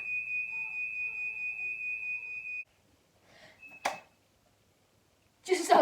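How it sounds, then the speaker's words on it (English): A smoke alarm sounds one steady, shrill tone for a few seconds, then cuts off, followed by quiet and brief bursts of voice. "the smoke alarm went off"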